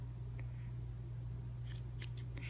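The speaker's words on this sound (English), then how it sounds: "you're going to put the scissors through, you're going to pull tightly and then cut" Scissors snip through looped tassel thread in a few quick, crisp cuts, close up and fairly quiet over a steady low hum, with no talking.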